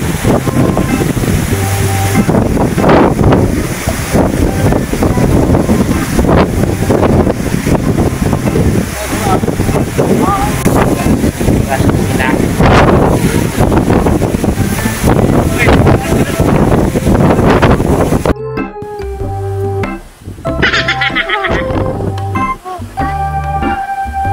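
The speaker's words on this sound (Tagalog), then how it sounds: "Napakalakas po ang hangin." Strong wind at Pakol View, Santa Magdalena, Sorsogon, Philippines, roars steadily into the microphone, a constant rushing blast with some surf-like noise underneath.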